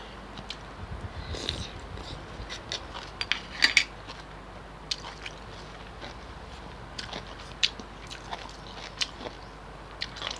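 Quiet, close eating sounds, soft chewing and scattered clicks of cutlery or dishes, with occasional sharper taps over a low room hum; no talking.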